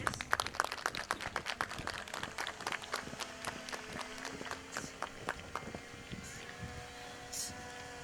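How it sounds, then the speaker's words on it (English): Guests at a school event receive a round of applause, a sharp, uneven patter of clapping that thins out, with a voice and a faint tonal hum lingering as it fades. "A huge round of applause for all our guests."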